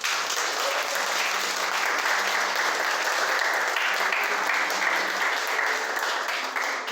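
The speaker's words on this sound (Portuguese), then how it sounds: "Palmas, irmãos." Sustained applause from a church congregation honouring two women pastors, a dense steady wash of many hands clapping at even loudness throughout, with no talk over it.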